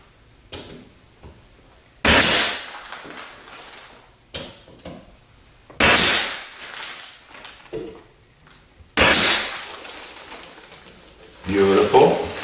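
Finish nailer firing 2.5-inch nails into wood trim: four sharp, loud pneumatic shots spaced a couple of seconds apart, each followed by a short hiss of decaying noise.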